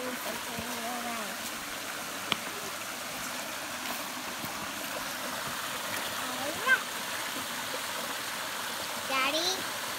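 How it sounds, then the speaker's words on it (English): Waterfall and stream at Grindstone Run in McConnell's Mill State Park, a steady soft rush of flowing water with occasional splashes, while a child and an adult talk over it. "I was taking a video of the waterfall."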